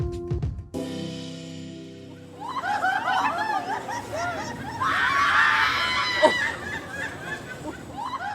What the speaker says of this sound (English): we just followed the screams